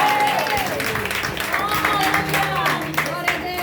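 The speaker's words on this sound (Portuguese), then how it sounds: "Você pode aplaudir Jesus?" A church congregation applauds loudly during a sermon, a dense clatter of many hands with cheering and vocal exclamations mixed in, sustained throughout the short stretch.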